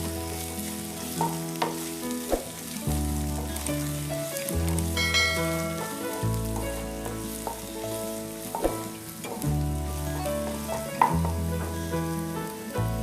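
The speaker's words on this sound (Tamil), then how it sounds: "அந்த இஞ்சி பூண்டோட ரா ஸ்மெல் போகிற வரைக்கும் கொஞ்சம் வதக்கிக்கணும் நல்லா." Ginger-garlic paste and onions sautéing in a pan, giving a steady sizzle with occasional stirring scrapes, set under continuous tonal background music.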